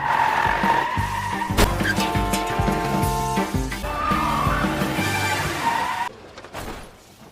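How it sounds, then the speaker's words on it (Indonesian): Multi-car pileup in a chase scene from the 2019 film Extreme Job: loud, continuous screeching of skidding tires and car engines with crashing impacts and film score, ending abruptly in quieter rumble. "akhirnya terjadilah tabrakan beruntun"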